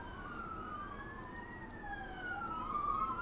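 Emergency vehicle sirens wail outside, a rising and falling tone that sounds distant and muffled, steady for several seconds with a low traffic rumble underneath and no talk over it.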